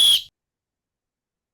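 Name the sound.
whistle blown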